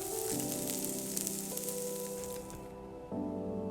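Steady, loud sizzling of beef bulgogi frying in a hot pan, a crackling hiss that continues throughout with brief shifts in intensity.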